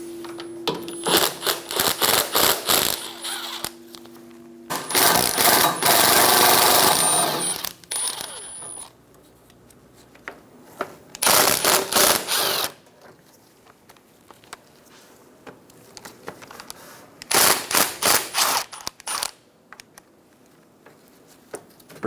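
A power tool spins out the four 8mm bolts holding a plastic guard on a 2012-2020 Chevrolet Sonic 1.8L L4. Four separate bursts of loud, rattling whir sound close by, with quieter clicks and handling noise between them.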